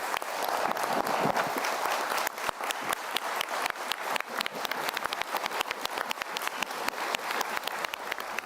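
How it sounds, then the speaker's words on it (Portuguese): Sustained, dense standing ovation from a full legislative chamber, steady and loud throughout with sharp individual claps standing out. "Ele foi aplaudido de pé por todos os presentes no plenário."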